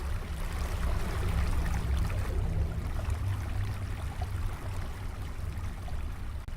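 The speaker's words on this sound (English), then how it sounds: "try to swim up the water. And up the waterfall we go" Continuous rushing water of a waterfall in the video game Creativerse as a character swims upward, a loud, steady broadband wash with no talking.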